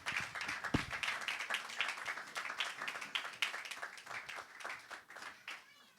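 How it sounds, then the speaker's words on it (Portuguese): A church congregation at a Sunday family service claps together in a rhythmic, uneven patter, moderately close, with voices speaking over the clapping. "Aplaudimos pela palavra de Deus."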